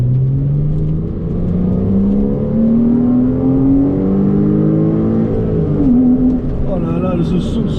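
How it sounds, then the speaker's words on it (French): A Porsche Cayman S flat-six with its stock exhaust revs up close, its pitch climbing and sweeping in smooth, sustained rises over several seconds. "c'est un bijou ce Flat 6 Porsche"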